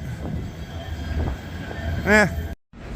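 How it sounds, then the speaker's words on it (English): Busy ambience at Manchester Piccadilly train station: steady low rumble and rolling rail noise, a rising, ringing tonal squeal near the end, then a sudden brief drop to silence before the hum returns. "all quiet at Manchester Piccadilly train station"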